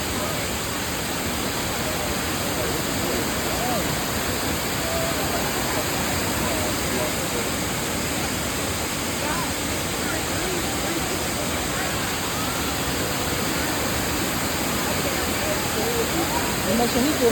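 Waterfall in Roswell, Georgia pours as a steady, loud broadband rush of falling water that stays constant throughout, with no pauses or clear voices on top.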